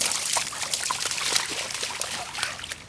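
Creek water flows with a steady bubbling trickle nearby, a bright, busy splashing that stays even throughout without any voices.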